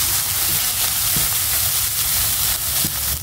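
Spices with salt, turmeric and chili powder fry in hot oil for a prawn malai curry, a loud, dense and continuous sizzle close by, with faint stirring scrapes and no voices.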